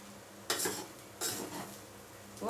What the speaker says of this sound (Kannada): ಇದನ್ನ ಚೆನ್ನಾಗಿ ಅನ್ನದ ಅಗಳಿಗೆ ಅಂಟೋ ಥರ ಚೆನ್ನಾಗಿ ಫ್ರೈ ಮಾಡ್ಕೋಬೇಕು ನಾವು